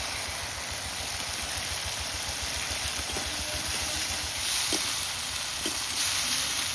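Crab and spice masala frying in a pan, a steady hiss under a low rhythmic hum, with a few faint scrapes of stirring, close and constant with no talk.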